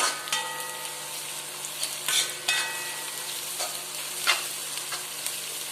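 Onions, ginger, green chili and garlic with curry leaves sauté in coconut oil, a soft steady sizzle close by, broken by several scraping stirs of a spoon against the pan.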